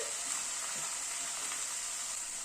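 Ginger, garlic and onion sautéing in a pan over a medium gas flame, a soft, even hiss of oil that holds steady throughout at a low level, with no voices.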